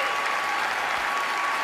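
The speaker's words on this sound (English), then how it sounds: "People applaud." A crowd applauds steadily and loudly for the opening of a first annual award show, a dense wash of clapping with no gaps and no voices over it.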